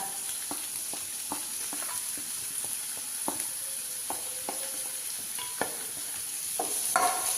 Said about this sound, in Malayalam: ഇതൊന്ന് ചൂടായി വന്നാൽ നമുക്ക് ഇതിലേക്ക് സബോള ഇടാം.